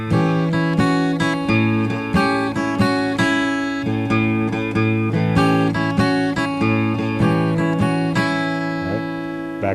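An acoustic blues guitar plays a three-note melody over a steady open-string bass note in a fingerpicked E pattern, loud and close with evenly repeating plucks and no talking.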